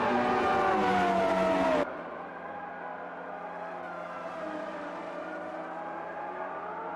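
Benetton Formula One car with a Ford V8 engine in a 1991 racing simulation, a loud high-pitched engine whine at full revs that abruptly drops to a quieter, steadier drone, with no talk.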